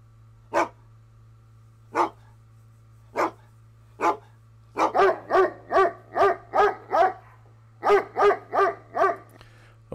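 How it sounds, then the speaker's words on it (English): An aggressive dog bark recording played back as an MP3 on an Amazon Echo, single sharp barks spaced apart then quick bursts of rapid barking, loud and close, with a low steady hum beneath. "I'm using this aggressive dog bark"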